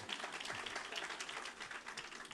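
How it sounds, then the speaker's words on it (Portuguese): Applause for a volunteer at a Sunday family event, a dense steady patter of many hands clapping at moderate distance, continuous throughout with no gaps or talk. "Palmas para o voluntário"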